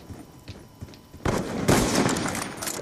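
Dense Black Ops 2 free-for-all gunfire: after a quieter opening second, a loud sustained burst of rapid shots breaks out and carries on to the end, close and heavy, with no talking.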